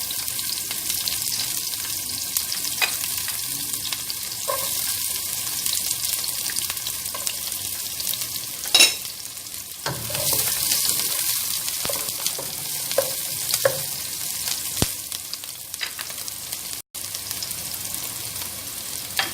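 Onions sauté in about two tablespoons of hot cooking oil in a pot. A steady, hissing sizzle continues throughout, with occasional clicks and scrapes of a utensil. The sizzle is fairly close and carries on without talk.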